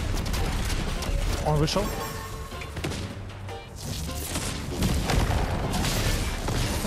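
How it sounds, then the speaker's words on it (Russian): Explosives blow apart a house in Fortnite with booming blasts and crashing debris in a dense, loud game mix, while a player speaks briefly over the noise. "Я взрываю дом полностью."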